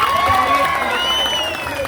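Students applauding and cheering as a crowd at a protest gathering in Bengaluru, a steady dense wash of clapping and shouting voices lasting throughout.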